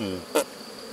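Honeybees in an opened Miniplus hive during a colony check, a close buzzing drone with a brief louder swell as one passes near, all within about a second.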